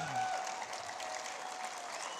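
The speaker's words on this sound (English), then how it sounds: "Give a round of applause" An audience at a bass fishing championship weigh-in gives a round of applause, a continuous, fairly faint patter of many hands heard from a distance.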